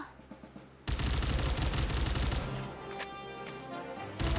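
Asuka fires in the mobile game Goddess of Victory: Nikke, a loud sustained burst of rapid gunfire starting abruptly, tapering into scattered shots and echoes, then another burst resumes at the end.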